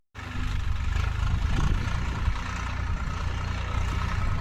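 A tractor engine rumbles steadily at close range, a low, continuous droning idle that starts abruptly and holds without a break.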